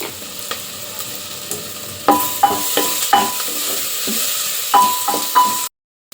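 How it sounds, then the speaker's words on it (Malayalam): Sliced onions sautéing with salt and turmeric in a pan for egg biryani, a steady close sizzle with repeated sharp scrapes and clacks of a spoon stirring, the cooking noise cutting off abruptly near the end. "ഒരു കാൽ സ്പൂൺ മഞ്ഞൾപ്പൊടിയും കൂടെ ചേർത്ത് വഴറ്റിയെടുക്കുക"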